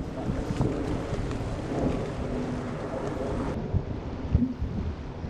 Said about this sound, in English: You got wind coming over the top of that hill